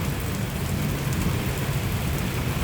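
An evening thunderstorm in Genoa City brings steady heavy rain hissing with low rolling thunder rumbling beneath, constant and dense, with no voices.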